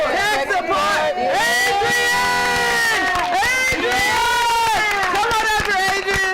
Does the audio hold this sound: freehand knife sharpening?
no